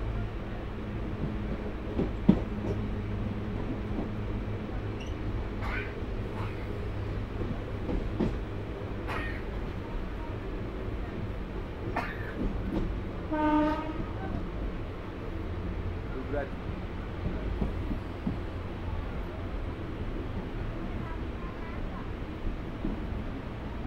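The Hool Superfast Express rolls from Howrah to Suri with a steady low rumble and faint rhythmic wheel clatter over the rails, a continuous drone heard from inside the carriage, with occasional soft knocks and a brief horn-like tone midway.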